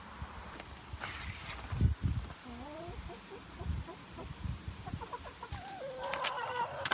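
Chickens in a coop damaged by a bear cluck and squawk softly at a moderate distance, with a few brief calls and rustling under faint background noise and some nearby talk.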